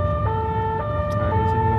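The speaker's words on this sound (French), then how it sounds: "La sirène l'enjoint de s'arrêter" A French police car's siren wails close and loud in a steady two-tone cycle, sounding alone over a low engine rumble during a night-time stop in Paris.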